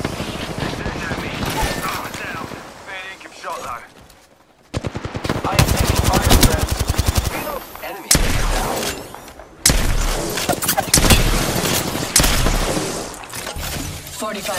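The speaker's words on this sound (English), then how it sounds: "Firing." Rapid automatic gunfire from an Apex Legends match rattles in dense loud bursts, broken by a brief pause, with callout voices and other game effects mixed underneath.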